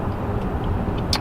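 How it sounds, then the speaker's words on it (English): Low, steady road rumble inside a 2019 Honda Passport Elite AWD cabin while driving, a broadband hum at moderate level with a faint tick or two and no voices. "So you can hear a little bit of the road noise, but it's actually not bad in this vehicle"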